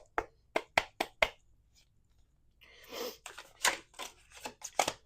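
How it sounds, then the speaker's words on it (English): Quick sharp riffles of tarot cards being shuffled, a burst of four snaps followed by a longer run of softer shuffling, close by with no talking. "2 more shuffles"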